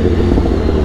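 A BMW S1000RR motorcycle rolls over a brick-paved street in Dumbo, its engine a loud, close, low rumble with a steady buzzing vibration from the bumpy surface in one brief burst.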